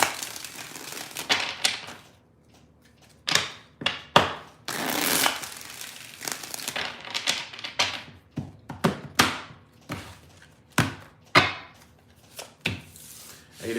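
Tarot cards being shuffled by hand in a rapid run of crisp riffles and slaps, several bursts separated by short pauses, close and fairly loud with no talking.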